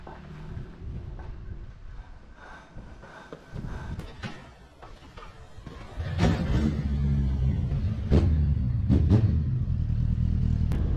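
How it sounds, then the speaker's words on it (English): A motorcycle is push started: a quiet rolling clatter comes first, then the engine catches around the middle and keeps running with a louder, steady rumble and a few sharp pops. "So now you've seen me push start my bike and you see that it works really easy."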